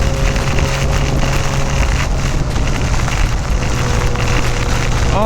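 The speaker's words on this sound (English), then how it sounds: "And there comes the wind with it." Sudden cold wind and rain sweep over a boat, making a steady, loud, broadband roar with gusty buffeting against the microphone and no break throughout.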